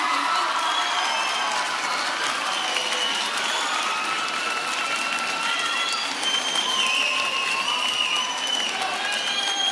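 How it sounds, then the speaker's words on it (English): Steady, full audience applause for a junior high choir concert, with scattered whoops and cheers rising over the clapping. "one more round of applause for our seventh grade choir"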